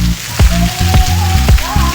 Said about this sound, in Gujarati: જોરદાર વરસાદ વરસી રહ્યો છે